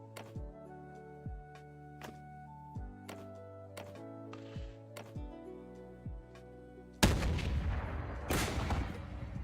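Cannon fire in a video game: a series of sharp booming shots spaced a second or so apart, each with a ringing tonal tail, followed by a denser, louder roar near the end.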